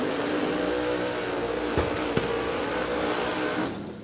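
Loud, sustained engine roar of a Datsun drag racing car at Warwick Dragway in Australia, steady at full power before tailing off at the end, heard from trackside without talk.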